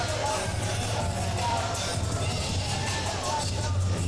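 A capacity crowd at a Battle Arts wrestling event produces a dense, sustained roar of cheering and chatter with a constant low hum underneath, steady and loud throughout.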